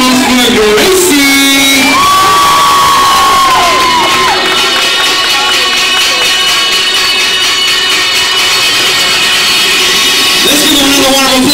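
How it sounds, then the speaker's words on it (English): Guests at a wedding reception cheer and applaud for a long stretch, with loud whoops and sustained yells over constant clapping, full and close, and a few shouted voices rising above the crowd. "And let's give a warm round of applause for Gracie."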